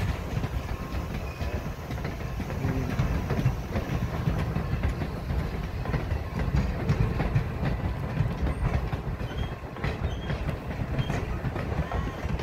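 Cars of a Strasburg Rail Road steam train clatter along the rails in a continuous clickety-clack rumble, moderately loud and steady, passing close by with faint voices in the background.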